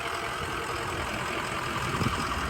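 A Ford 6.0 Powerstroke diesel truck engine idles in a steady, continuous rumble, close and even throughout with no voices.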